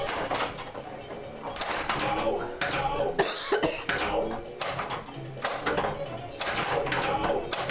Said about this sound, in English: Coughing is so annoying.